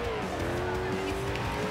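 A race car in Forza Horizon 2 drives at high speed, with a continuous loud engine whine and some tire noise under a voice talking.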